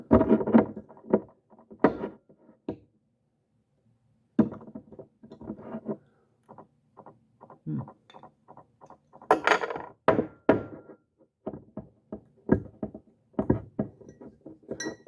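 Thick wax seal being picked and peeled off a bottle of Crux Fermentation Project Tough Love barrel-aged imperial stout, a run of faint close crinkles, scrapes and small clicks in irregular bursts between quiet pauses.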